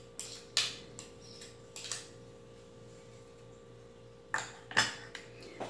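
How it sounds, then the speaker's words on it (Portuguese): Eggs are beaten in a bowl for oat and wheat-flour cookies, with scattered sharp clinks of a utensil against the bowl in short bursts and quiet pauses between them. "Primeiro eu vou bater os ovos aqui"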